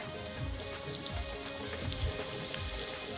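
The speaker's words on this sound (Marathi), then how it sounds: "कढईत तेल घेतलं तेलात टाकून घेऊया लसूण मिरची आणि किसलेलं आलं" Garlic, chili and grated ginger frying in oil in a wok-style pan, giving a steady close sizzle with soft crackle and faint bubbling throughout, no talking.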